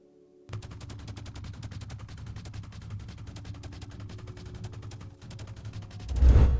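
A Minecraft Create schematicannon fires in a rapid, steady stream of sharp clicking shots over a low hum, ending in a louder burst.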